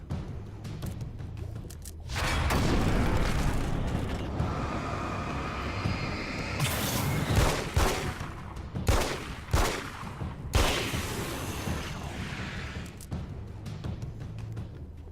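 Gunfire and explosions from Alan Wake's American Nightmare, the action video game, with a long dense rumbling blast followed by a volley of sharp shots and bursts, loud and close, with no talking.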